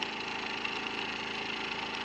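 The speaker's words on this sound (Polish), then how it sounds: "silnik bardzo ładnie pracuje, cichutko" A small electric motor in a transistor control test setup runs steadily with a smooth, even hum and a faint whirr, continuous and close throughout.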